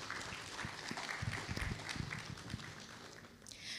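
An audience claps steadily through a white coat ceremony at Avalon University, the applause heard as a dense continuous patter at moderate distance that begins to taper toward the end.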